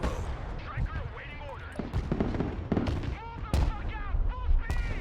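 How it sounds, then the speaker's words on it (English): Explosions and artillery fire in the Broken Arrow war video game, repeated sharp booms and bursts scattered through a busy battle, with a voice speaking over them. "that's a big explosion"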